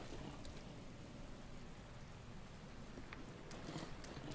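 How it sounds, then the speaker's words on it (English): Rain falls as a steady, faint hiss of drops in The Legend of Zelda: Breath of the Wild, with a few sharper taps near the end and no voices. "now I can barely see because it's raining"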